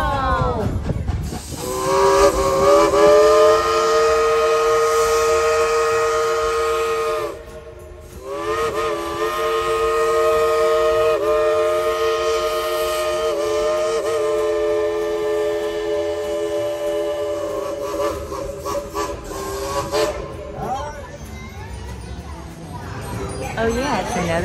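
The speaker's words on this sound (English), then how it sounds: "please tell the engineers blow the whistle" Steam locomotive whistle at Dollywood theme park blowing two long, loud, sustained blasts with a short break between, hissing steam around them, and people talking nearby as it fades.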